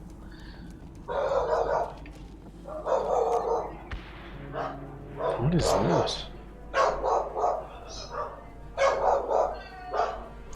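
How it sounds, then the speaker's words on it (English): Several dogs in a house bark and yip in repeated loud bursts, with some whimpering, over a game's background sound. A person speaks between the barks. "Oh, sorry, that's my dogs."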